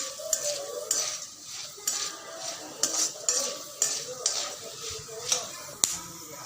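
A spoon stirs and scrapes through a pan of masala being roasted for a field crab dish, giving sharp metallic clinks about once a second over a soft, steady sizzle.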